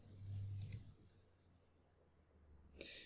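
Faint clicks of a computer mouse selecting a product, a couple of quick taps near the start and another near the end, quiet and alone.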